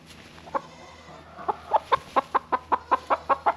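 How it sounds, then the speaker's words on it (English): A farm chicken clucks in a quick, steady run of short calls, close and clear, starting with a few scattered clucks before settling into a regular rhythm. "And a chicken."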